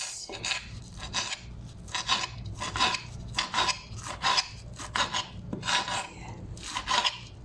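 Knife chopping parsley for tabbouleh salad on a board, a series of rapid rasping, scraping cuts in irregular bursts, close and clear with no talk.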